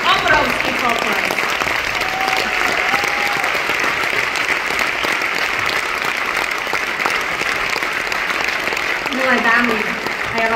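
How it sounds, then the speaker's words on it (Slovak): Big indoor audience at a Mary Kay 60th anniversary gala bursts into sustained, dense applause lasting several seconds, with a voice speaking over the clapping. "úžasné, obrovský potlesk"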